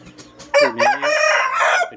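A rooster crows once, loud and close, a full drawn-out call rising and holding for over a second after a brief quiet start; a healthy fighting rooster.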